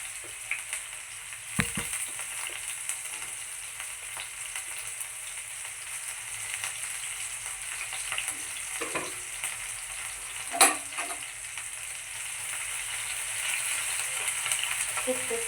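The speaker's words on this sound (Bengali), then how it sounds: "তো এখানে হচ্ছে পেঁয়াজ কুচি দিয়ে দেব। এখন তেলটা গরম হয়ে গেছে।" Chopped onion frying in hot oil makes a soft, continuous sizzle and bubbling, with a few light scrapes and taps from stirring scattered across it.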